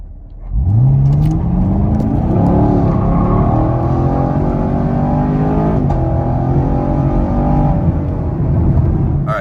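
A 2021 Chevrolet Camaro LT1 launches hard on an open rural road in a 0-60 run, its V8 engine roaring loud and close as revs climb through several gear shifts, one brief dip mid-pull, then sustained high-rpm drone.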